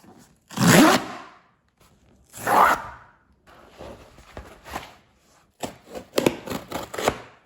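Comic book shipping packages being ripped open: two loud tearing bursts of cardboard and paper, followed by quieter rustling, then a run of sharp scrapes and tugs, close by with no talk.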